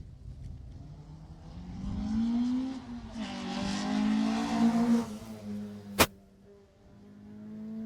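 Rally cars on a Jersey Rally stage roar past, engines climbing and revving as one car approaches and passes, with a sharp bang and a second engine building at the end.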